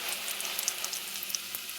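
Food frying in a pan, a steady close sizzle with fine crackling pops scattered throughout, no voices.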